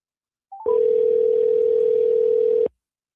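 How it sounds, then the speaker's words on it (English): A telephone handset picks up and a loud, steady dial tone hums for about two seconds after a brief click and chirp, then cuts off abruptly into silence. "Let's see if I could dial the right number this time."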